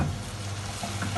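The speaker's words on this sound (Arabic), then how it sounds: "هنحط بقى الجمبري" Shrimp hit a hot frying pan for a seafood paella with a brief, steady, close sizzle and crackle of hot oil.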